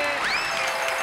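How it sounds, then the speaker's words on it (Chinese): Studio audience applause on a Taiwanese TV variety game show, a steady dense clapping wash that fills the short moment at moderate level with no talk over it. "掌声鼓励。"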